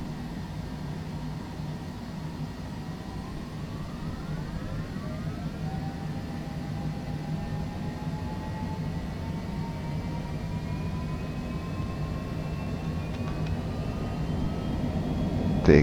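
Airliner jet engines spool up to takeoff thrust in Microsoft Flight Simulator, a steady loud roar with rising whining tones that climb in pitch over many seconds, continuous and without talking.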